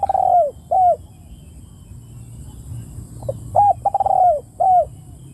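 A spotted dove used as a hunting decoy gives several clear, mellow cooing phrases in two separated bursts, fairly close, over a quiet outdoor background with no talking.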